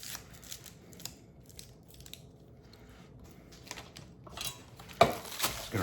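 A knife rough-chops ingredients on a cutting board for grilled jerk chicken, giving irregular, fairly quiet thuds and scrapes with pauses, then a louder burst of quick chops near the end.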